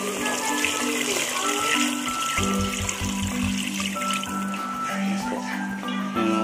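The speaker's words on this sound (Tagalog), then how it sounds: "Ilagay na natin yung tubig mga paps." Water pours steadily into a cooking pot of pork and crab sinigang, a continuous splashing trickle close to the microphone that lasts several seconds, with a humming voice and background tones underneath.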